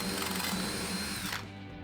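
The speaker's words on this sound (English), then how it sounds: "First, I drill a hole for the switch I'm going to add." A power drill bores a hole through a guitar effects pedal enclosure for an added switch, whining loudly and steadily up close before winding down near the end.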